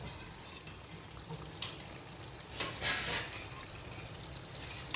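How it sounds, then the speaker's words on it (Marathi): Cooked moth beans (matki) dropped into a hot pan, giving a faint steady sizzle with a brief louder splash and hiss partway through. "शिजून घेतलेली मटकी टाकत आहोत."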